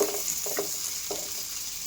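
Small shallots frying in a pan with dried chillies and tamarind for a spicy chutney, a soft, steady sizzle with a few faint stirring taps over under two seconds.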